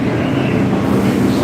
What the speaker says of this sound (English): that's the 6th train.